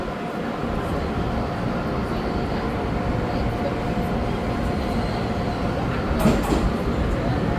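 A blue-and-white R200-class Stadler R215 diesel-electric locomotive running light as a test run on a railway line in Taiwan: a loud, continuous low engine rumble and rail roar, steady throughout with a brief clank near the end.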